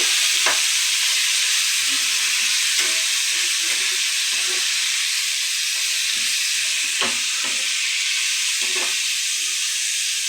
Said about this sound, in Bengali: আলুটা একটু হালকা ভেজে নেব।